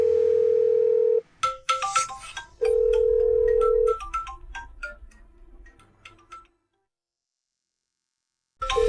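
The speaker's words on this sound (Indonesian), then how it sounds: "Kok HP wakil Zhou bunyi?" A mobile phone rings with a steady electronic tone, broken by a run of rapid beeping chimes, then repeats the long tone before falling silent and starting once more at the end.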